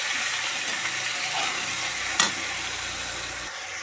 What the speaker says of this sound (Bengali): আদা রসুন বাটা একটুখানি ভাজা ভাজা হয়ে গেছে।